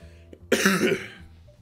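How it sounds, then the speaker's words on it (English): A single loud, harsh cough close by, preceded by a small throat sound, in an otherwise quiet room. "Ugh, fudge. I hate coughing."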